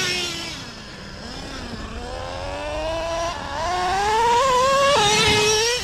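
A Traxxas Revo 3.3 nitro RC monster truck with a forward-only conversion and two-speed gearbox, its small engine buzzing loud and close, the pitch climbing steadily through one long rising rev with a brief dip before surging higher.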